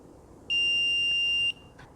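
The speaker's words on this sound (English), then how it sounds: "And it beeps when the time is done." A hat heat press timer gives one high electronic beep, holding for about a second, clear and steady against quiet background hiss.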